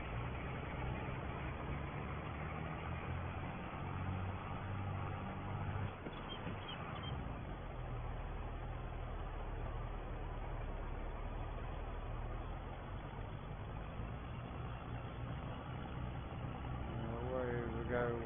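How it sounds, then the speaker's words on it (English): A farm tractor engine works through a 1965 oat harvest at Attingham Park, running as a steady, loud low rumble for the whole stretch, strained on a hill, with a brief shift in tone partway through. "this tractor wants to go down in here, doesn't like the hill."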